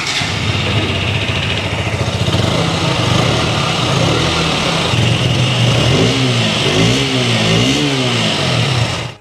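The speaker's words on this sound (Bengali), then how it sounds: "এই বাইকটার এক্সস্টের সাউন্ড কেমন সেটা আপনাদেরকে একটু শোনাচ্ছি" A KTM Duke 125 motorcycle with an underbelly exhaust runs close by and loud, holding a steady idle and then revving up and down several times in rising and falling swells.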